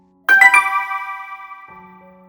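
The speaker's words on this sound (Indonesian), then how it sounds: "Suara notifikasi pesan masuk membuat fokus Ustadz Amar terhenti" A short phone incoming-message notification chime rings out, a few quick bright tones blending into a sustained ring, then a lower tone as it fades.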